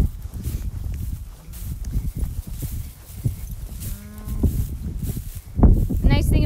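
Cattle on a farm calving barn with new calves: a few moos and bleating calls rise at intervals among shuffling noise, while people talk nearby.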